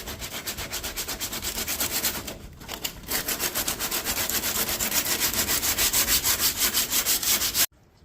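Rhythmic back-and-forth rasping of 80 grit sandpaper worked by hand over a car's rear quarter panel, close and loud, with steady strokes, a brief pause midway, then continuing until it stops abruptly.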